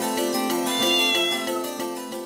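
A domestic cat that watches a mobile phone gives a long, drawn-out meow, rising and then tapering off, loud and close with a continuous background underneath.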